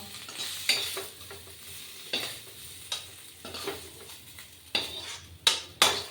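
Vegetables cook in oil in a pan with a soft sizzle beneath repeated clinks and scrapes of a spatula against the pan, the stirring strikes coming irregularly every second or so, close by.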